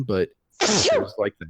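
A single sharp, explosive sneeze bursting in between stretches of conversational speech, close and loud, with a person talking casually just before and after it.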